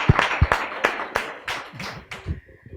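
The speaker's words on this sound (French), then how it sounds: "Applaudissez pour lui." Brief applause with several sharp, separate hand claps in an uneven rhythm, fairly close and loud, fading slightly toward the end of a short burst.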